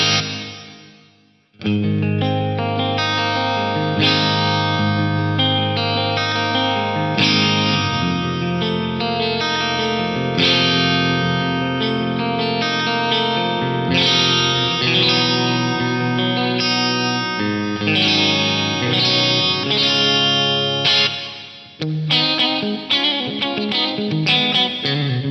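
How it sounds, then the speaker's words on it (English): Lexicon MPX-1 hall reverb on a sustained, richly harmonic instrument, loud and continuous with chords ringing into a long wash after a brief silent start, then thinning near the end. "I am all about this hall reverb though."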